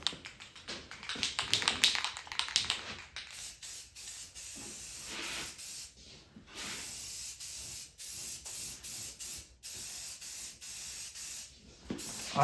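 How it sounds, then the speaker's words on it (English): Spray paint hisses onto Robotron and Sinistar arcade game parts in repeated close bursts, some short and some drawn out in long strokes, with brief pauses between them and no talking. "I like to spray paint like I paint a car."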